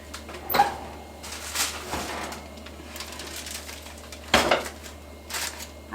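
A pan of candied sweet potatoes is pulled from the oven, with a few clanks and knocks of metal cookware and rack against a quiet kitchen hum, close and intermittent.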